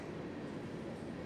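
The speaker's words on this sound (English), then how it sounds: "I can talk over train, I just can't talk over a whistle." A train passes through Moncks Corner, South Carolina, heard as a steady low rumble and rolling noise, moderately loud and unbroken throughout, with no whistle and no talk.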